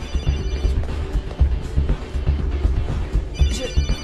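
A mobile phone ringtone plays loudly and steadily amid a busy, noisy scene, with a repeating electronic ring pattern over low rumble throughout.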